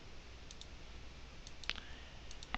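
Mouse clicks while unfollowing accounts on Twitter: a few sparse, faint clicks over quiet room noise, with one sharper click near the middle and another at the end.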